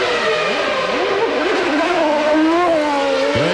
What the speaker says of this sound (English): as you see Hakkinen virtually crawling out of the pits